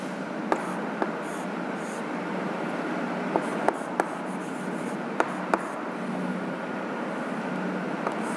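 A pen scratches continuously as a geometry proof about congruent triangles is written out by hand for a ninth-grade maths lesson, with a few sharp taps scattered through the writing. No speech is heard.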